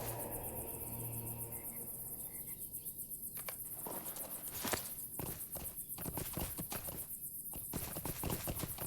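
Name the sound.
wayward horse hooves in the video game LOTRO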